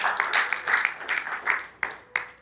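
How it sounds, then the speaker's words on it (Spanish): A church congregation gives a short round of applause, with several separate hand claps and small bursts that grow sparser and end in two sharp isolated claps. "Denle un aplauso al Señor"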